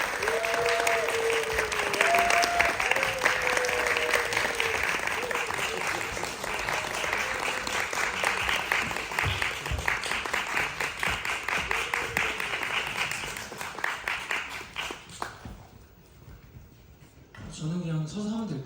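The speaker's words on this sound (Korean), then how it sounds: "박수." Audience applause fills a theater talk event after a play, a dense steady clapping crowd lasting about fifteen seconds, with a voice talking over the start before the clapping fades out.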